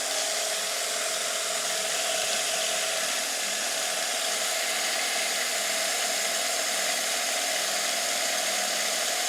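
A homemade flour mill grinds steadily, giving a loud, continuous, gritty whirring with no breaks and no voices, close to the listener throughout.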